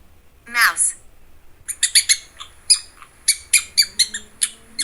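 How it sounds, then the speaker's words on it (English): Bird calls offered as a pigeon sound: a brief squawk followed by a run of short, bright chirps in an irregular rhythm, fairly close and clear with no talking. "Pigeon."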